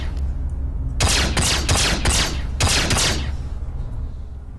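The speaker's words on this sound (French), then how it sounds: "Un pistolet laser." Laser pistol fire in the Star Citizen FPS module: a rapid burst of four sharp shots, a brief pause, then three more, loud and close over a low steady hum.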